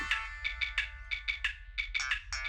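A mobile phone ringtone plays close by in a quick repeating electronic melody of short bright tones, with no talking over it.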